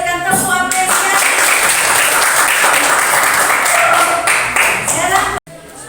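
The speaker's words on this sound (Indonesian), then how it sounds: "kita berikan tepuk apresiasi." In a classroom, students give a loud and dense round of applause that holds steady for several seconds and then cuts off abruptly, with a brief voice at the start.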